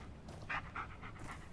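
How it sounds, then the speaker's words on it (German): Two dogs panting in the Blair Witch video game, a soft rhythmic breathy huffing with a few brighter bursts, fairly close and steady over low background rumble. "Ich höre zwei Hunde."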